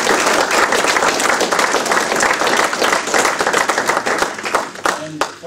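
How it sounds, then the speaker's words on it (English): An audience at a Knights of the Southern Cross social gathering breaks into a loud, sustained round of applause, dense clapping that tapers off near the end with voices underneath. "But can we give a round of applause to those guys that..."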